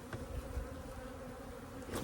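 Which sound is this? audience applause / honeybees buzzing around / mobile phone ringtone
honeybees buzzing around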